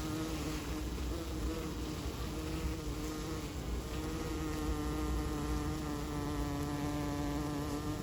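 Honeybees in an urban city farm hive make a steady, dense buzz throughout, a close continuous drone with a layered hum and no talking.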